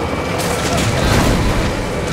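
A gunshot fires in Jurassic Park: The Game, a loud, dense boom with a rumbling tail that fills the short moment without talk.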